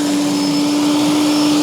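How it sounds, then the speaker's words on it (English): Continuous electric lawn dethatcher drone with a steady tonal hum and airy rush, unchanging and close, resembling a vacuum, no voices. "a vacuum cleaner for grass"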